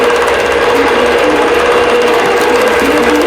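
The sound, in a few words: quilting machine starting to stitch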